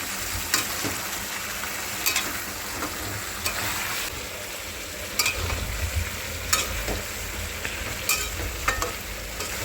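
Mutton curry is stir-fried in a pan during slow frying, with a constant close sizzle broken by regular spatula scrapes and taps every second or so.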